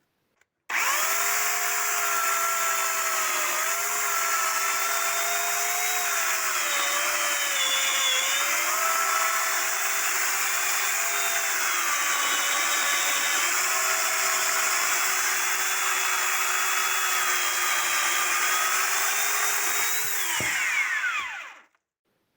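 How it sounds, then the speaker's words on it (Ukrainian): A SADKO cordless saw cuts steadily through firewood, giving a loud continuous whining motor drone with a slight wavering pitch for about twenty seconds before spinning down, with no voices. "Починаємо різати. І пилка заходить в дерево впевнено, без істерик, без зупинок."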